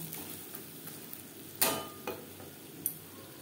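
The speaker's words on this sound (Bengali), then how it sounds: "লো টু মিডিয়াম ফ্লেমে ডিম ভেজে নেব।" Fish roe frying in a pan over low to medium flame: a faint, steady sizzle broken by a few sharp pops and crackles.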